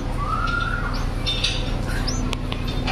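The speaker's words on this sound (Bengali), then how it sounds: "আবার মানে পাখির বাচ্চা ফুটেছে" Newly hatched baby birds in a nest on a balcony give thin, high squawks and short chirps over a steady low background hum, close by and fairly loud.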